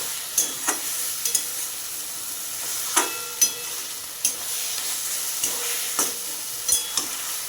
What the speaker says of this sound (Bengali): নাড়াচাড়া করে ভালো করে দেখুন একেবারে পেস্ট হয়ে গেছে কচুর শাক